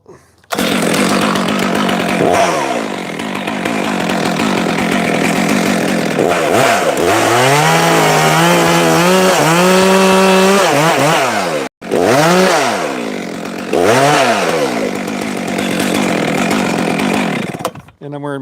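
A chainsaw roars loudly and steadily, its engine revving up and down as it bites into wood, with a brief cut-out midway before resuming.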